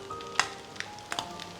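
Lobster meat, garlic slices and shallots fry in melted butter in a hot pan, a soft sizzle broken by a few sharp popping spatters.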